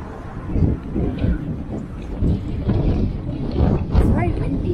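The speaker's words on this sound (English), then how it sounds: "It's very windy. My goodness. It's breezy." Gusty wind at the London Eye in January buffets the microphone with a low, roaring rumble that swells and fades, and a voice speaks briefly over it.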